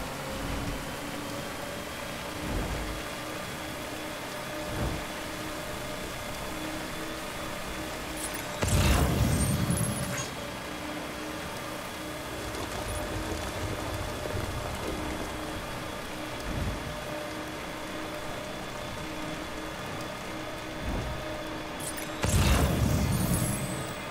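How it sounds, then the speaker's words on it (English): Steady timefall rain in the video game Death Stranding, a soft even hiss with a low tonal hum underneath and two brief louder rumbling gusts, no one talking. "Let's get out of this timefall."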